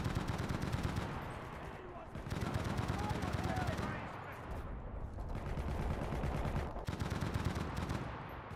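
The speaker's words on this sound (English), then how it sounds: "Get the Bren set up." A Bren light machine gun firing in the video game Enlisted during a Commonwealth battle in the Pacific, long loud rapid bursts broken by brief pauses, with other combat sounds and some talk underneath.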